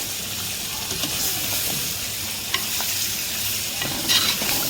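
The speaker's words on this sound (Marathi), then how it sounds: "ही बघा आपली मुंडी ते आपण आता याच्यात टाकून घेऊया आणि ती मुंडी आता मस्त हलवून घेऊया" A goat head sizzles and is stirred in a clay pot over a wood-fired chulha, a loud steady frying hiss with scraping stirs close by.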